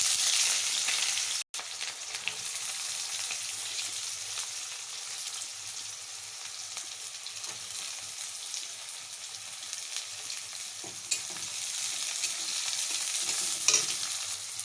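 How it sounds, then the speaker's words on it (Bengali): Onion frying in hot oil with browned cumin, a steady close sizzle and hiss that runs throughout, broken by a brief cut and a few soft clicks near the end. "এখন দিয়ে দেবো পেঁয়াজ"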